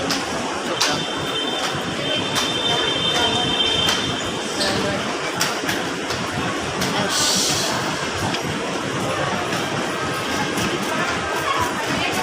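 A continuous rumbling roar of an MRT metro train in the Philippines rolls by at close range, with clattering and a faint squeal riding on the steady noise.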